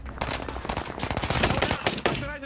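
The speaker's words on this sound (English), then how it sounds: "It's a machine pistol." Rapid machine pistol gunfire in Warzone on the Caldera map, dense bursts of fast cracking shots, loud and close, with a voice briefly heard underneath.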